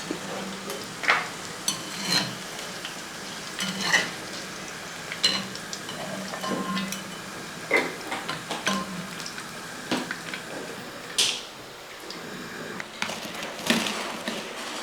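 Chicken nuggets frying in hot oil with a soft steady sizzle, broken by scattered clinks and scrapes as pieces are turned and scooped out of the pan.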